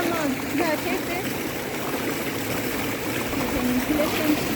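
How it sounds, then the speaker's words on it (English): Water of the Wah Kaba waterfall in the Khasi hills of Meghalaya rushes steadily in a continuous broad wash, with faint voices now and then beneath the flow. "You can listen to the sound of water here in the waterfall."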